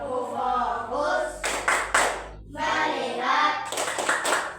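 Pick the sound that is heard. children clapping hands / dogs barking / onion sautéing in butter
children clapping hands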